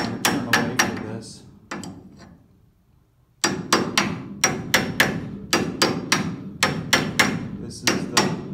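A hammer taps on a Prius electric power steering part in quick clusters of sharp, close, ringing knocks. A pause of about two seconds breaks the tapping before it resumes in the same rhythm.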